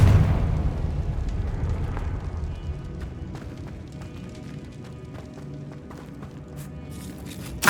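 A Confringo blasting spell goes off in Hogwarts Legacy, a loud burst at the start that decays into a rumbling tail, followed by scattered debris clatter and a sharp hit at the very end.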